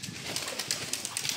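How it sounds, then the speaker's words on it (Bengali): Pet pigeons coo close by in soft, repeated throaty pulses that rise and fall in a steady rhythm. "এই কবুতর কি জাত?"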